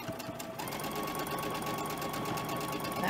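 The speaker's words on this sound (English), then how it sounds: "So let's sew that together." A sewing machine runs steadily for about three seconds, stitching fabric pieces together as part of a costume build, a continuous close whir with a short pause near the start.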